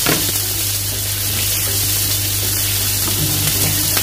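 Onions sizzle steadily in a heated wok, a dense, continuous frying hiss that holds at an even loudness with no break and no voices.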